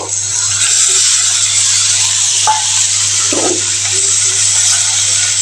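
Garlic, ginger and onion paste sizzles in a hot pan for jackfruit curry, a loud, steady hiss that runs unbroken throughout with no voices.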